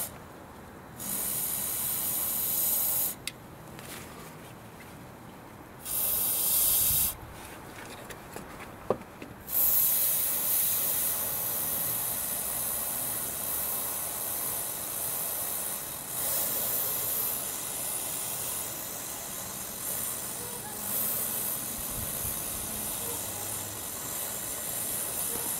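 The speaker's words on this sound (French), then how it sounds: "nous allons vaporiser au plus près de l'écrou, pour éviter que le jet se réchauffe sur le trajet" Thermal penetrating spray hissing from an aerosol can aimed close at a seized nut, several loud bursts of varying length separated by short pauses, then a long continuous spray, with no talking.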